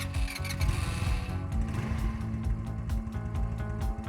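A tracked ATV engine starts up and runs, a close, fairly steady mechanical hum with light rhythmic ticking and clatter, quiet and even throughout.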